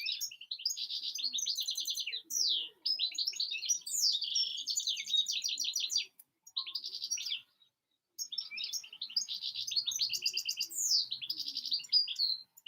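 A small songbird sings and chirps continuously nearby, rapid high trills and tweets in bursts with short pauses, clear and alone.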